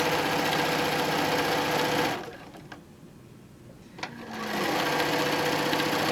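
A sewing machine stitches across a quilted table runner with a loud, rapid, even whir. It pauses briefly with a light click, then resumes at the same steady pace.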